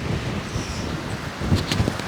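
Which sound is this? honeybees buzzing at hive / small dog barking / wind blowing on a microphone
wind blowing on a microphone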